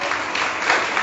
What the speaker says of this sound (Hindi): ताली बजा के प्रभु को महिमा कीजिए।